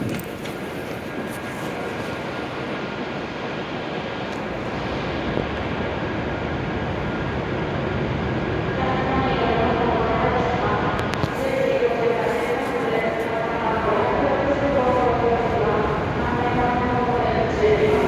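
Hokuriku Shinkansen E7 series train at Kanazawa station, a steady loud hum and rumble that builds over the platform, with station announcements over it.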